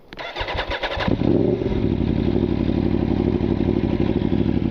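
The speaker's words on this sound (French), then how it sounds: "je vais te faire écouter le son de la moto" A 2017 Aprilia Tuono V4 Factory motorcycle cranks briefly and fires up close to the exhaust outdoors in a forest, then settles into a loud, steady, rumbling idle.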